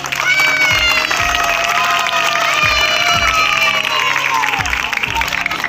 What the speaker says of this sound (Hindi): इनके स्वागत में और एक बार जोर से तालियां बजाइए।